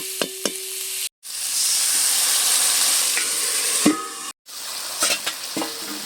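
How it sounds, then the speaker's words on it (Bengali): Potatoes stirred and fried in a pan, a loud continuous sizzle with clinks and scrapes of the spoon, broken by two brief gaps. "আলুটা দিয়ে একটু নেড়ে চেড়ে নিচ্ছি"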